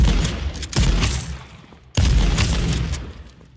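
Automatic gunfire in the online shooter H1Z1 comes as two long, dense volleys separated by a brief gap, loud and sustained like a rattling fusillade, with no voices.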